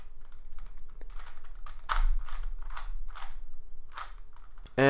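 Plastic pieces of a 3x3x2 cuboid puzzle click and clatter as it is twisted through a sequence of quick turns, a run of close, crisp rattling bursts with brief pauses between them.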